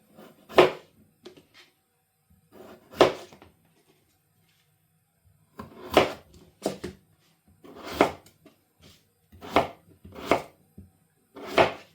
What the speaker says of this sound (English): Next, cut the potatoes into small chunks.